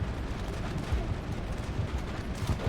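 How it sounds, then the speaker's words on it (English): Heavy gunfire during a firefight in Mass Effect, a dense rumbling barrage of shots and low blasts with no clear gaps, steady and moderately loud. "Firing all the time."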